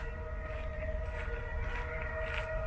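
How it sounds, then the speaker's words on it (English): Sirens wail faintly in the distance over a low city rumble in Berlin, their rising and falling tones drifting steadily in the background. "Damn sirens in the background."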